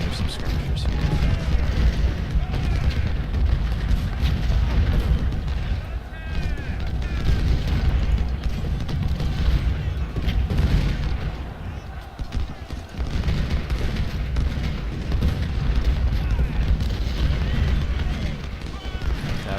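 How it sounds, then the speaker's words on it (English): Artillery booms sound at irregular intervals in the Civil War strategy game Ultimate General: Civil War during a Georgia Railroad battle, over a rumbling battlefield bed with hoofbeats. Someone talks over most of it. "So they've got some artillery out here still"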